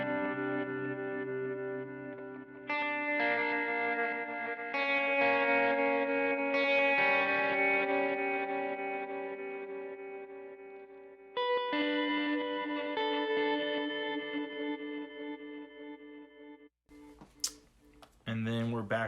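Electric guitar played through a pedalboard's reverse delay effect, sustained chords swelling backward and washing into each other, loud and close, ending with a few clicks and brief plucked notes.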